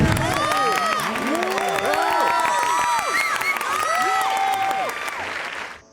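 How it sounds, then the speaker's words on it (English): Recorded crowd cheering and applause played back through the Remote Cheerer app by Sound UD: a dense, steady wash of clapping with whistles and shouts that runs for several seconds, then fades out at the end. "And here's the Remote Cheer for you."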